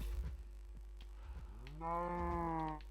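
A cow in the Minecraft video game gives a long, loud, drawn-out moo that rises in pitch midway, preceded by a few faint game clicks and footsteps, with no talk.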